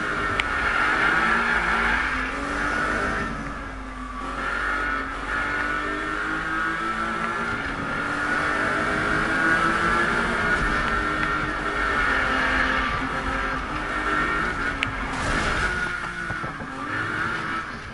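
A car in the 2015 Need for Speed video game races along with a loud, continuous engine roar that rises and falls, mixed with tire squeal and skidding, close and without talk.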